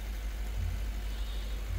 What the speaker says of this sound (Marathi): गाडी स्टार्ट केल्यानंतर